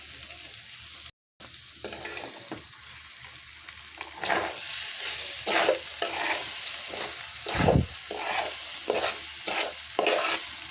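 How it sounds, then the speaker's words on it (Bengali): Rice fries in a pot for cauliflower and potato pulao, a steady sizzle broken by repeated scraping stirs that grow louder and more frequent, with no talk. "যতক্ষণ না পর্যন্ত চালটা ভাজা হবে আমি ততক্ষণ পর্যন্ত চালটাকে ভালো করে ভেজে নেব।"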